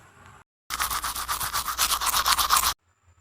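Toothbrush bristles scrub back and forth in a steady, rapid rhythm, loud and close in a small bathroom, with a brief quiet pause before and after the brushing.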